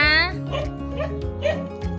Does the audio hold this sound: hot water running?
no